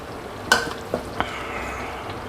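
Crispy pork is stir-fried with chili paste and oil in a pan: a low sizzle runs underneath while three sharp scrapes and knocks of the utensil sound, the first loudest, over a quiet background.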